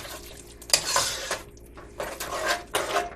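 Evaporated milk being stirred into sweet potato pie filling in a bowl, a spoon clinking and scraping against the sides in uneven bursts, close and fairly quiet, with no voices.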